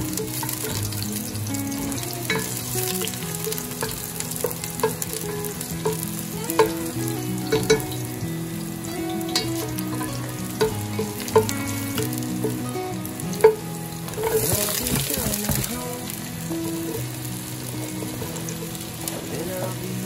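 Spices sizzle and fry in a hot pot while cooking a beef stew, with a steady crackle and occasional stirring clinks and scrapes throughout.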